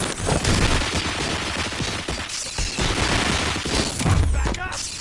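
Gunfire in the shooter Robocop: Rogue City, a loud, dense barrage of rapid shots and bursts layered with booms and chaotic battle noise, with a voice talking underneath.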